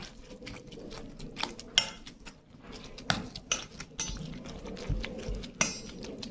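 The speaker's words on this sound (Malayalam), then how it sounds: "അതൊന്ന് ഇളക്കി കൊടുക്കേണ്ടതുണ്ട് നല്ല പോലെ പാല് നമ്മുടെ ബ്രെഡുമായിട്ട് ഒന്ന് മിക്സ് ആവണം" A spoon stirs milk into bread pieces in a bowl, giving soft repeated scrapes and occasional sharp clinks against the bowl's side, close by and uneven in rhythm.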